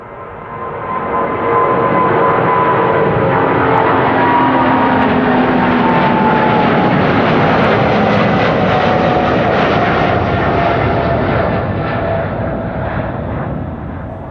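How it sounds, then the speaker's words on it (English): A 22-year-old Boeing 777-200 airliner, first flown in January 2004, takes off at Amsterdam Schiphol Airport. Its engines give a loud, sustained roar that swells quickly and holds steady for the whole stretch. "777-200 to Washington is probably going to be taking off first"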